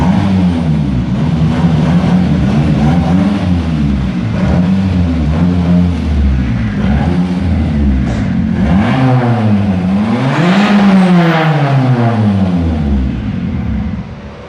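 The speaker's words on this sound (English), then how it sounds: "I'm just gonna take the car out for a quick test drive" A turbocharged Nissan B13 with a GA16DE engine on a test drive after an oil leak repair, its engine droning steadily and rising and falling through gear changes in a loud, continuous interior rumble.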